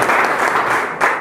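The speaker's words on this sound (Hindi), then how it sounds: "एक बार तालियां हो जाए आप सबकी।" Audience applause at a public forum in the Vindhya region, a dense steady burst of clapping from a crowd, loud and close, with a brief swell near the end.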